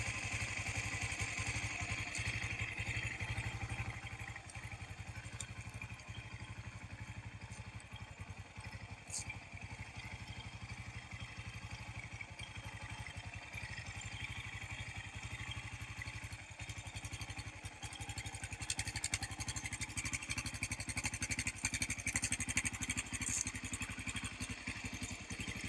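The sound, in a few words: 660 Raptor engine running after rebuild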